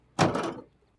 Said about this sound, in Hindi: तुम दरवाजा बंद करो।